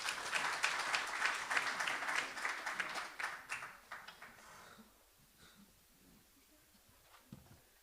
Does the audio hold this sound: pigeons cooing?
no